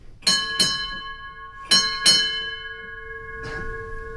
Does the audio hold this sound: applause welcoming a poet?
no